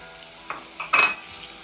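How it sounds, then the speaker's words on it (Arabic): Vegetables fry in a pan for eggplant moutabaka, with a soft sizzle and two or three quick spatula scrapes in a brief moment. "الخضرة عم تتقلى"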